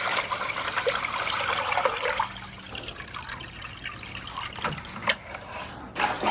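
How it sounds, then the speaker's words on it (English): Fresh water pours and trickles steadily into a container for an injured duck, a close, continuous liquid rush that thins toward the end. "Get some fresh water for our little injured duck friend."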